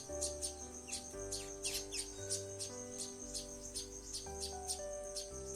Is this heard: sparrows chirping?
yes